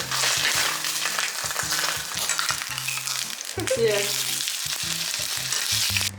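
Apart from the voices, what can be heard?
beef fat sizzling on grill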